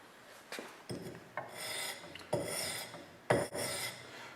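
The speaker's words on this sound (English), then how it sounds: "So I do 400 grit one side, flip the axe over, 400 grit the other side." Axe blade rubbed on 400 and 600 grit sandpaper, a series of quiet rasping strokes with short pauses between them, close and fairly faint, with no talking.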